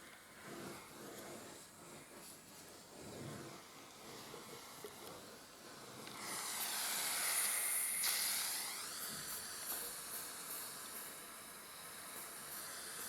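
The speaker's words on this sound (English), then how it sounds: "Let steam out all that." Steam hisses out of a hot household appliance after water is heated, starting soft and swelling into a louder sustained hiss partway through, with no talking.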